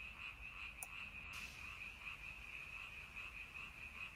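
A frog croaks in a steady, buzzing trill that runs continuously and fairly faint in the background, with a couple of brief clicks near the start.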